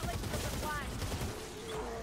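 Rapid gunfire rattles in a burst during combat in the video game Warhammer: Vermintide 2, a dense clattering fusillade mixed with game effects and a player talking over it.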